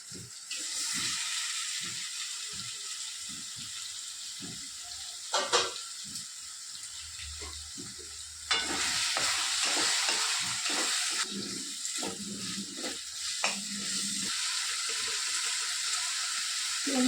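Goat liver frying in a pan with ginger-garlic paste, a steady loud sizzle with scraping stirs and occasional clinks throughout, no talking.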